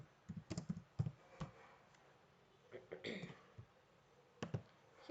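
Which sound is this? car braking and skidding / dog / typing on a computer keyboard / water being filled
typing on a computer keyboard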